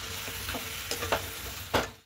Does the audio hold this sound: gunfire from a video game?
no